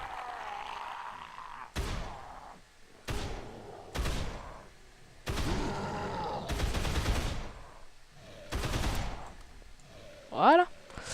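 Gunfire in the Dead Island video game: about six loud, sharp bursts of shots spaced a second or two apart, each with a short decaying tail, while someone speaks between them.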